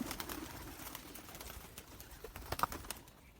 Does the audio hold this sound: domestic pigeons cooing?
yes